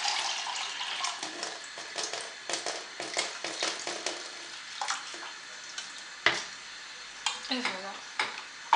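Meat cooks in a pan for Tunisian tajine malsouka, with soft sizzling broken by repeated stirring and scraping in uneven bursts, fairly faint and close.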